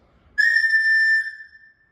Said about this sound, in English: it's actually a recorder, or some people call it a flutophone, but really a recorder.